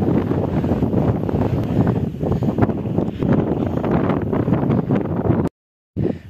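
Strong wind buffets the microphone on a hilltop during a family hike, a loud continuous roar with gusty swells that cuts out briefly near the end before returning.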